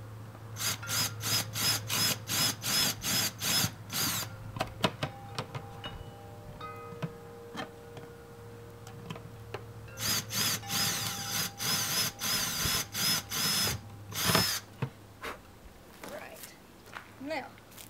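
A power drill widens two holes in a plastic 5-gallon bucket lid, running in repeated short bursts with pauses between, close and loud, while a person talks in between.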